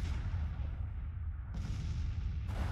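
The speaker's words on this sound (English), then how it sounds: "Alright, our guys, artillery over here are firing" Cannon artillery firing in the Grand Tactician: The Civil War strategy game, a dense, continuous low rumble of battlefield gunfire that stays loud and steady throughout with no voices.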